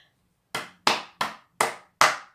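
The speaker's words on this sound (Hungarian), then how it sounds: "Taps!" Five sharp, loud hand claps ring out close by in an uneven rhythm after a short silence, each one crisp and quickly fading, with no other sound around them.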